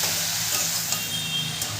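Bottle gourd and prawn curry is stirred with salt and spices in a pan, giving a steady sizzling hiss with soft scraping, close and continuous.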